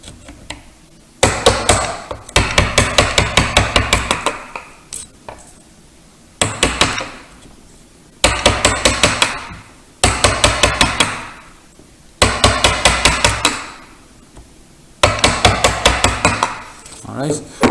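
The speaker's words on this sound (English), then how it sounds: "I'm going to turn the chisel around, go to the top of the hill, and now just start chiseling down, working my way down" A hammer drives a chisel into wood while a vanity mirror frame is carved, loud sharp blows in quick rhythmic bursts separated by short pauses.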